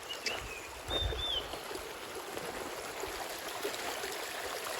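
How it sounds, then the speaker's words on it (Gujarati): A fresh water stream flows in the Barda hills with a steady, soft rushing and trickling, continuous and fairly close, with a brief bird whistle near the start. "જો પાણી આવે તાજું તાજું"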